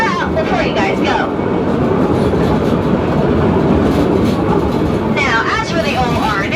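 A Hawaiian Railway heritage train rolls along its tracks, a steady loud rumble with rhythmic clattering of wheels over rail joints and squealing flanges, running continuously throughout while a voice talks over it.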